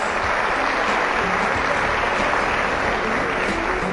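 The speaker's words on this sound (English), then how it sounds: "Applause?" Dense, steady applause from a keynote audience fills the room, loud and continuous throughout.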